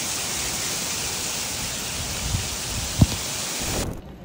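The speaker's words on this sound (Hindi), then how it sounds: "फुल बारिश।" Heavy rain pouring in Barcelona, Spain, a dense continuous hiss of downpour at close range with a couple of brief knocks near the end before it cuts off.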